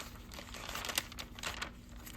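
Paper pages of a Hobonichi Cousin planner flipped by hand, a run of quick crisp rustles and crinkles close up, with tucked receipts, packaging and stickers between the pages.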